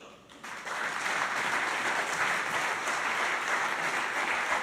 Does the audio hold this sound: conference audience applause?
yes